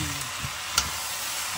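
Chayote shoots and egg stir-fried in a pan, a steady low sizzle with soft stirring scrapes and one brief sharper clink near the middle, close and alone without talk.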